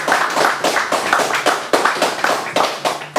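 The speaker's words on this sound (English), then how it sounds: "more applause for Keith Drake" A small audience claps for a performer at a live show, giving close, loud clapping in distinct rhythmic bursts from only a few pairs of hands, with no talking.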